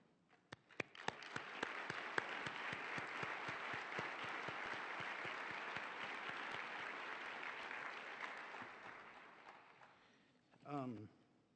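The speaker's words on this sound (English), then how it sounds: "Would the judges please stand so we can say thank you with a round of applause?" A luncheon audience gives a round of applause for the judges at the Donald W Reynolds Governors Cup awards, a dense steady clapping that swells quickly and holds for about ten seconds before fading, with a brief voice at the end.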